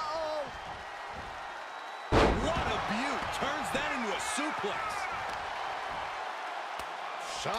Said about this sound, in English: they're slamming their face down